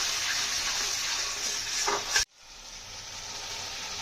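Stuffed potatoes for aloo dum being cooked down with beaten yogurt in a pan give a steady, close hiss of sizzling that builds to a brief flare and then cuts off abruptly to a quieter simmer.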